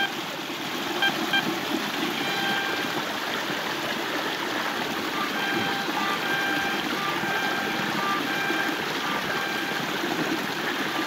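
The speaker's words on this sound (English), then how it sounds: "A little loud in here with all the water." Loud running water rushes steadily all around while a Garrett Recon/ATX metal detector is in use, a dense, unbroken wash of noise that fills the whole stretch.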